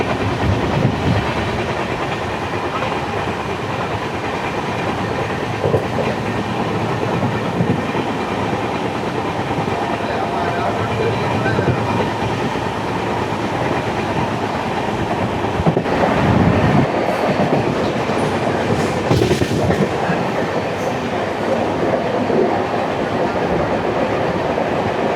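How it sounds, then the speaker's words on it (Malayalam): A Humsafar Express train runs through Thalassery station in a continuous, loud rolling rumble with rhythmic wheel clatter, steady throughout, with a slight surge near the middle. "നമ്മൾ ജസ്റ്റ് തലശ്ശേരി സ്റ്റേഷൻ വഴി റൺ ത്രൂ ആണ്."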